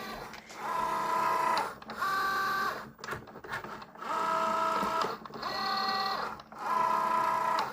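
Electronic craft cutting machine fitted with a blade, slicing a card mount for dangly earrings; repeated whirring motor passes with tonal whines, each lasting about a second, separated by short pauses and clunks, close and steady.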